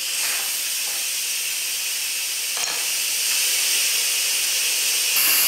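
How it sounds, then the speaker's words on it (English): Steam rushes steadily from an Instant Pot's vent during quick release after cooking baked potato soup, a loud continuous hiss that stays even and close throughout, with no talking. "I'm gonna push it over to venting and let it do all of its release"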